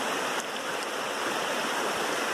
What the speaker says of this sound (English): It's a pretty little waterfall right there.